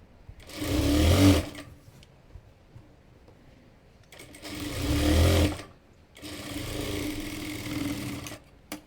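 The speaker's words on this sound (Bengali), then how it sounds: "তখন আমরা উল্টো সাইডে এভাবে নিব, নিয়ে প্রথমে একটি সেলাই দিয়ে আটকিয়ে নিতে হবে।" A sewing machine stitches piping onto fabric for a child's fatuya, running in three steady humming bursts separated by short pauses, close and clear with no talking.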